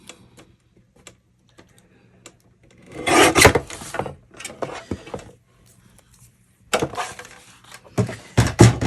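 A bottom piece of wood for a Santa's mailbox is trimmed off by hand with close, rasping cuts in two main bursts. Small ticks and taps come before and between them.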